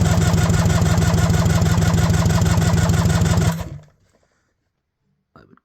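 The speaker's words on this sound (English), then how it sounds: "I hooked up a battery to the starter so we can check if there's any compression." Suzuki GT750 rebuilt engine with the cylinder head fitted, cranked on its starter from a battery for a compression check, a rapid steady loud chugging that stops abruptly after about three and a half seconds, then near silence.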